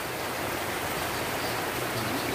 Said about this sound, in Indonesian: Nah, kembali hujan